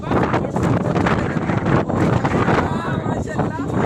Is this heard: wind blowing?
yes